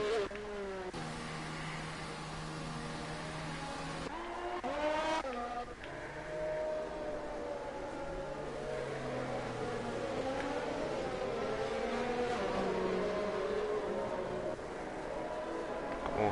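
Race cars in a sim racing league weave across the track behind a safety car, engines droning and shifting pitch continuously, with occasional tyre noise and commentary voices talking over the steady motor sound.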